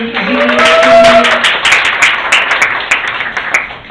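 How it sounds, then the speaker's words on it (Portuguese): An audience claps to welcome a guest at a women's empowerment breakfast event, loud dense applause that begins over a brief voice and thins into scattered claps toward the end. "Palmas para a Sueli."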